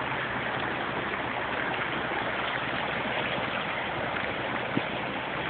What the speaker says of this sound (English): The creek is out of its bounds, and it's creeping this wave really, really slow.